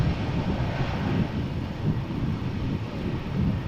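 A jet airliner on approach into Amsterdam Schiphol Airport gives a steady, loud low engine roar with some wind rumble, continuous throughout.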